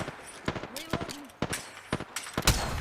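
Gunfire in a battle royale video game comes as a rapid string of sharp, close shots in irregular bursts, with short synthetic game tones between them.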